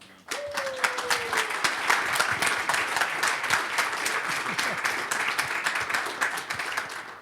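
Audience at a California political talk breaks into sustained, enthusiastic applause, a dense wash of clapping that starts abruptly and holds steady for several seconds, with faint voices and a whistle near the start.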